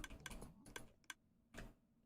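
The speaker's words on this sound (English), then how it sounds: "it was the dropper chain clicking" Rapid clicking from a Minecraft dropper chain, a few crisp ticks in short separated bursts, quiet and close with no talking.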